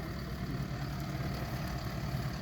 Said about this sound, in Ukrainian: Ось так проходить тест-драйв на тракторі Соліс 75 на виставці